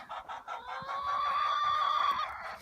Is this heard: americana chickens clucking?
yes